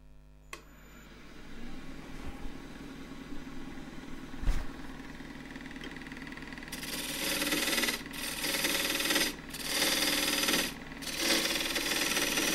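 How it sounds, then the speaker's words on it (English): Claret ash turning on a lathe with a 3/8 spindle gouge, a steady motor hum with bursts of hissing, scraping cuts that come and go in the second half, close and moderately loud. "so that all happens now with a 3/8 spindle gouge"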